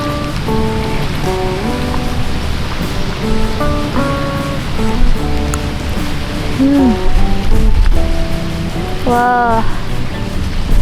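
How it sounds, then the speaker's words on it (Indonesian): Strong wind and choppy waves on a river during afternoon fishing, a steady rushing wash of water and air running throughout, with a short exclamation and some background voices over it. "Anginnya semakin sini semakin besar dan ombaknya."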